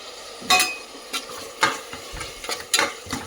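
Chopped onions added to a hot pan of oil, with a soft sizzle under several scraping, clattering stirs of a spoon against the pan at close range.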